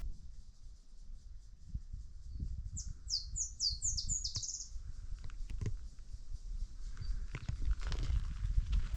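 Birds calling around a bird hide in Kruger National Park: a quick run of high chirps with a few scattered calls, over steady low rumbling and shuffling noise nearby.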